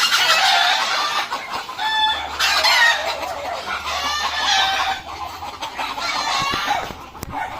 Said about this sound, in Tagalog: Daming manok ko.